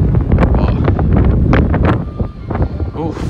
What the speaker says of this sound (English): it's going to be very windy up there